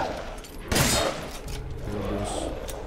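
A loud burst of rapid gunfire in the video game Resident Evil Village, then a steady rattling din of shots and effects continuing under the noise, with no one speaking.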